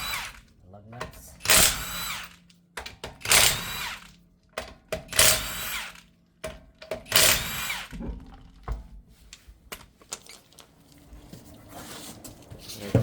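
A power tool fitted with a 17mm socket removes lug nuts from a Volkswagen Jetta, firing in several short, sharp, loud bursts spaced a second or two apart. A person talks between the bursts.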